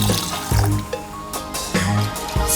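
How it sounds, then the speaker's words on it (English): Apple cider vinegar and distilled white vinegar poured into a pot for green tomato chow chow relish, giving short splashing, filling bursts with brief pauses between pours, close and moderately loud. "Add apple cider vinegar and distilled white vinegar to the pot."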